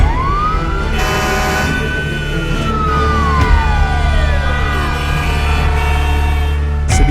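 A fire truck siren wails in long rising and falling sweeps, loud and close, over a steady low engine rumble, with a blaring horn blast near the start.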